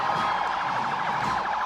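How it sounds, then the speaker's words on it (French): Rapid wailing ambulance siren cycling quickly up and down, steady and moderately loud, sounding from an emergency vehicle convoy at an official French event; no speech. "suivi de l'ambulance."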